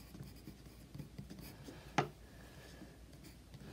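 Soft scratchy scraping of a giant 44-inch pencil dragged across paper in short strokes, quiet and close, with one sharper tap or stroke standing out midway.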